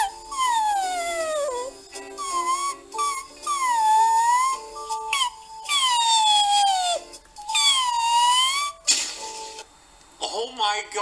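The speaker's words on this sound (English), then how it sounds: "Is that Tara Strong doing the whimpering?" A cartoon dog whimpers and whines in the Fairly OddParents: Breakin' da Rules video game, giving repeated high, wavering cries that rise and fall for about eleven seconds with brief pauses between them, loud and close.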